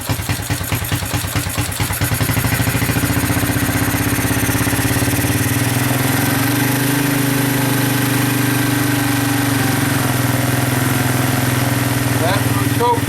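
A Honda 200SX ATV, a field find, runs with its engine rattling unevenly at first, then settles into a steady loud idle with a rising and falling pitch, close to the microphone.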